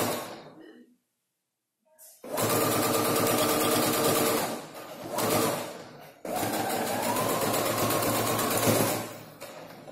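Home sewing machine stitching down a zipper, loud rapid mechanical chatter in two long bursts after a quiet pause, briefly stopping and restarting in between.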